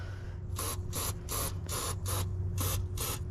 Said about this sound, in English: it's basically PB Blaster's brand, their spray grease